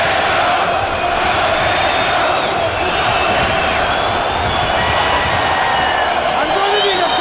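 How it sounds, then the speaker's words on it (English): A packed Calgary arena crowd at a UFC mixed martial arts event roars continuously and loudly for hometown fighter Nick Ring, a dense wall of cheering with commentators talking over it. "This Calgary crowd cheering on Calgary's Nick Ring."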